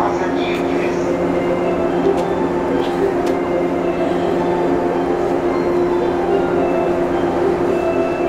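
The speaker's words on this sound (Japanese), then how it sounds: "1番線臨時列車の到着です。" A steady, heavy rumble of a JR 189 series train in national railway express livery rolling into platform 1 of a Nambu Line station fills the space, with an announcement speaking over the noise.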